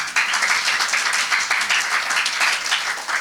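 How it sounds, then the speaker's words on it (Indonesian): A church congregation at an Indonesian Sunday worship service claps together in dense, continuous applause that holds steady throughout, with no talking. "Yang setuju tepuk tangan bagi Tuhan."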